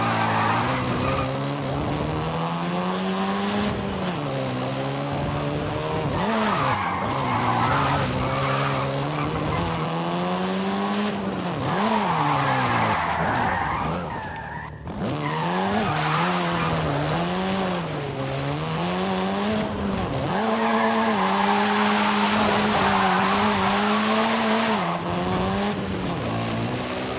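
A seventh-generation Volkswagen Golf R races in Forza Horizon 5, its engine note rising and falling through gear changes, with tire squeal and skidding woven through a long, loud, continuous run.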